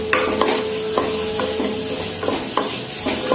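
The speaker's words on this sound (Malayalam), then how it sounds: "ഇളക്കി കൊടുക്കാം." Tomato masala with grated carrot is stirred in a pan for chicken majboos, giving a run of scraping spoon strokes, about one every half second, over a steady close sizzle of frying.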